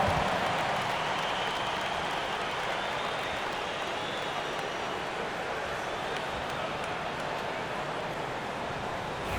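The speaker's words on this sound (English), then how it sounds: "Give yourself a round of applause." A broad, steady wash of crowd applause and cheering from a basketball video game fills the space, fairly distant and even, fading slightly over time.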